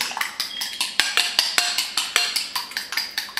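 Batter is beaten briskly in a bowl, a fast regular run of clinking and scraping strokes from a utensil against the sides, close by.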